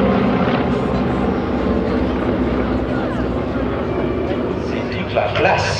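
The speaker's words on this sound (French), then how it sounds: "je vous laisse savourer le chant de ces nombreux cylindres de ces avions." Piston engines of a Douglas DC-3 and a Beechcraft 18 flying in formation at an airfield display at Villaroche give a loud, steady, throbbing drone throughout, fairly close and sustained.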